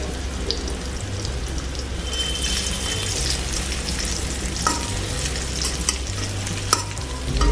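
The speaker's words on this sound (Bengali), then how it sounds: "এখন আমি এই পেঁয়াজের মধ্যে লবণ হলুদ মাখা চিংড়ি মাছগুলো দিয়ে দিচ্ছি, দিয়ে একটু ভেজে নিব।" Prawns coated in turmeric and salt fry with onions in hot oil, a continuous close sizzle broken by stirring and scraping in the pan, with no voices.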